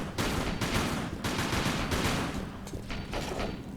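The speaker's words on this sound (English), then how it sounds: "this is where you'll see the amazing power of the new PAF gun" A PAF gun in a Tomb Raider level editor game fires in dense, rapid bursts, loud and continuous, with short gaps between volleys of gunfire.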